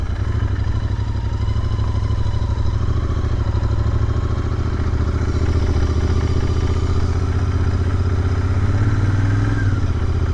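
A Royal Enfield Interceptor 650 motorcycle engine runs steadily up close, a loud continuous low-pitched thrum with mechanical clatter and a slight rise near the end, with no other sound over it.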